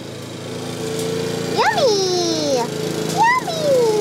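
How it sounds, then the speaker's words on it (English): A lawn mower engine drones steadily nearby throughout, a constant low mechanical hum under a person's voice, with someone talking over it. "Lots of mowing."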